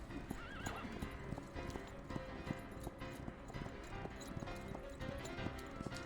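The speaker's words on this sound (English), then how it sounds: "She clings to the horse with all her might as he charges at full speed." A horse charges at full speed with rapid, driving hoofbeats and a whinny or neigh, heard close and continuous over a busy background mix.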